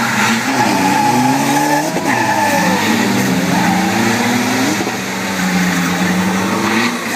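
Race cars roar along a track at Trang circuit, a loud sustained engine drone with rising and falling pitch sweeps as they speed past, close and continuous throughout.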